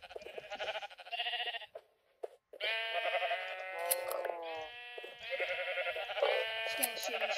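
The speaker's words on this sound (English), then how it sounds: "I also got sheep" Sheep in a video game bleat repeatedly in wavering, nasal calls, several in a row with a brief gap, close and fairly loud with no talk over them.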